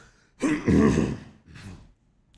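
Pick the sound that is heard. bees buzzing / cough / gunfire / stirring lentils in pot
cough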